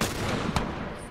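A single sharp pistol shot from The Last of Us cracks out loud and close, a brief percussive bang within a short burst of game noise.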